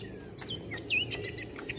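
Recorded bird calls play from a push-button exhibit at a nature center, a few thin chirps and whistled notes sounding faintly over a quiet room hum.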